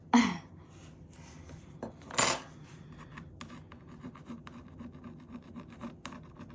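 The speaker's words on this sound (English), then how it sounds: "I'm just gonna like scrape this glue off a little bit." Scraping hardened E6000 glue off a cloisonné craft kit, a few short dry rasping scrapes near the start and around two seconds, then quieter faint scratching and small taps.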